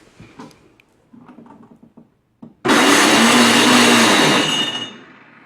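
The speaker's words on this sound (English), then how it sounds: "Does your Toro snowblower sound like this when you push the electric start?" A Toro CCR3650 snowblower's electric starter grinds harshly when the start button is pushed: a few faint clicks and knocks, then a loud, rough, continuous grinding roar for about two seconds that fades out, with no talking.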